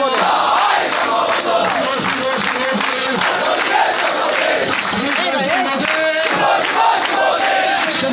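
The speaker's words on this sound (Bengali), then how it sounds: "এদিন বিশ্বসেরা অলরাউন্ডার দাঁড়ানোর সাথে সাথেই স্লোগান দেওয়া শুরু করে গোটা আওয়ামী লীগ কার্যালয় অফিস।" A dense crowd chants slogans in unison inside an Awami League office, loud and close, with steady rhythmic shouting that continues without a break.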